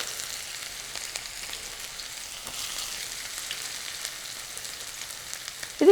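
Small onions sautéing in a pan while mutton curry cooks, giving a steady, soft sizzle and faint crackle that run evenly throughout, close by, with a brief louder clink right at the end.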